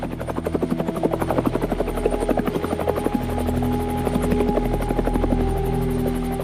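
An attack helicopter of the Minusca peacekeeping mission flies close by, its rotor giving a loud, steady, rapid thudding over a droning engine whine that does not let up.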